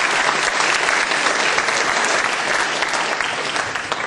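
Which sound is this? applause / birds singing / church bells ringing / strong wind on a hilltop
applause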